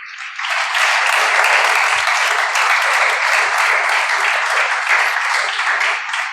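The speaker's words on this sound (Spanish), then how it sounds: "vamos a recibir al pastor con un fuerte aplauso" Loud, sustained applause from a large church congregation fills the space, dense and steady throughout, with no voices over it.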